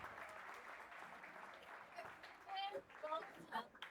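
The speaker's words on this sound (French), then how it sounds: "Vos applaudissements." Applause from an audience at a school book fair in Ouesso, steady and moderately distant, with speech-like voices rising over it toward the end.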